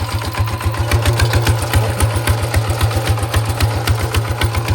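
A tractor engine running close by during rice sowing in a field, a loud steady throbbing idle-like chug with a fast regular pulse throughout.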